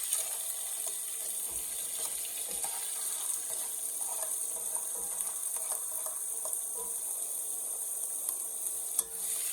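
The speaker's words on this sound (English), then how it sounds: "I'm going to caramelize these veggies" Red and green peppers and small Roma tomatoes caramelize in a pan, giving a steady, fairly soft sizzle broken by light scraping and stirring clicks, with no talk.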